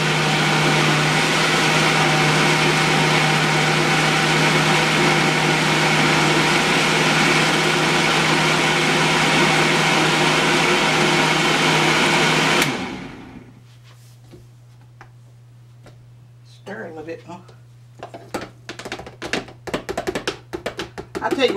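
A blender whirs steadily and loudly while mixing a smoothie of flax seed, banana and strawberries, then cuts off abruptly after about thirteen seconds, leaving quieter clicks and handling noises.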